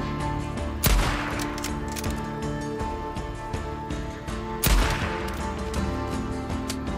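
Two loud rifle shots ring out in the Days Gone zombie game, spaced about four seconds apart, each a sharp crack with a lingering tail over a droning game soundtrack.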